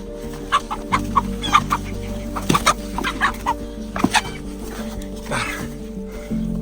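Several hens cluck repeatedly at close range in a coop, short bursts scattered over a steady low farmyard hum.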